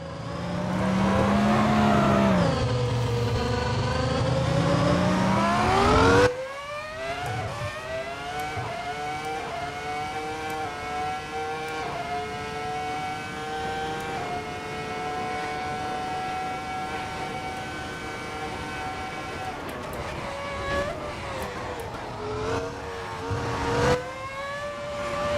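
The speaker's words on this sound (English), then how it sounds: "This is how a Formula 1 car should sound." A high-pitched Formula 1 engine in a racing video game screams and revs up and down through gear changes, steady and loud, with no voices.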